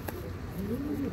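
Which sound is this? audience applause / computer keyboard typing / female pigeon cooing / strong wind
female pigeon cooing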